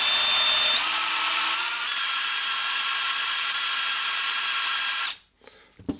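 A DeWalt DCD796 18V brushless drill driver, just repaired after an intermittent fault, runs with a loud, steady high-pitched motor whine that rises in pitch once early on, holds for about five seconds, then cuts off.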